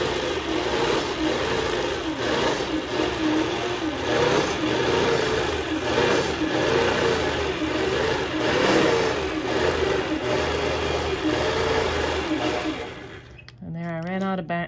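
A home quilting machine runs steadily for about thirteen seconds while stitching a feather design's center embellishment, a continuous mid-pitched motor whir with subtle speed swells. It cuts off near the end as a voice starts talking.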